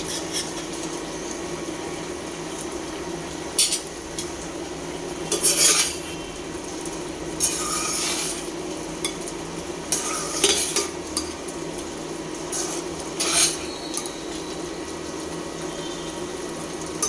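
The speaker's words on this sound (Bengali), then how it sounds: "এখন আমি গরম মশলা গুঁড়োটা দিয়ে দিচ্ছি এর মধ্যে ভালোভাবে মিশিয়ে নেড়ে চেড়ে নামিয়ে তোমাদের দেখাচ্ছি" Curry is stirred in a pot after garam masala powder goes in: a soft simmering bubble and sizzle runs throughout, broken by several sharp scraping and clanking strokes of a utensil against the pot.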